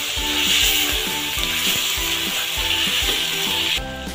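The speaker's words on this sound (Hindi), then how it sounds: "और अब हम इसमें काजू भी डाल देंगे।" Cashews fry in a pan with chopped tomato for chicken changezi, giving a steady bright sizzle. A regular scraping of stirring repeats in the background until the sizzle thins out at the end.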